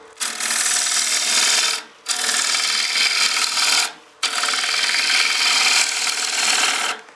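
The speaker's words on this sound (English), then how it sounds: "because we're cutting into side grain here, it's kind of a peel cut, so we can remove a pretty heavy shaving" A bowl gouge takes heavy peel cuts across the side grain of a wooden bowl blank spinning on a lathe, three long loud rasping passes separated by brief pauses, close up with no voices.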